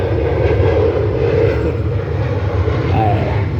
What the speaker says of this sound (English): it's another fucking plane.